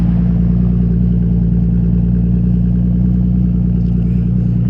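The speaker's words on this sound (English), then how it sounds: "It is louder to start with on idle with this Racing Sports Concepts exhaust." Bentley Continental GT fitted with a Racing Sports Concepts exhaust, running loud right after a start with a steady, deep idle rumble that holds throughout with no talk.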